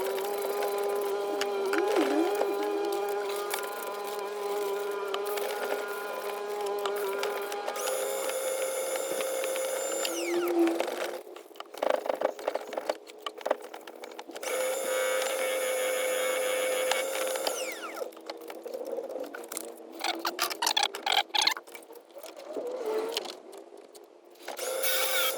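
A resin inlay bowl is resanded on a wood lathe, a spinning whine with a steady high-pitched sanding hiss that cuts in and out in several bursts, fairly quiet.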